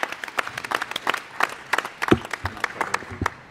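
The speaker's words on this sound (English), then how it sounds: "I am going to ask for a round of applause for those documents being completed" Scattered applause from a small group at an Oregon Tourism Commission meeting, individual claps distinct and uneven rather than a full roar, with a faint murmur of voices.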